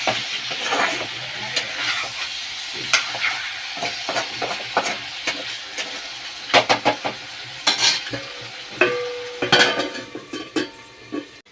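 Meat fries in a pan with ginger garlic paste, a steady sizzle under sharp metallic clinks and scrapes as a spoon stirs against the pan, close-up and irregular.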